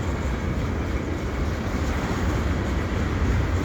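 A CP westbound mixed freight train rolls past at Dorval Ramps during snowfall, a steady, dense low rumble of wheels and cars holding at an even level without letup.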